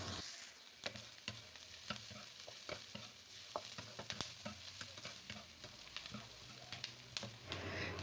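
Garlic, shallots and onion stir-frying in a pan, a steady sizzle with repeated scraping and stirring clicks from a spatula throughout, close and continuous with no voices.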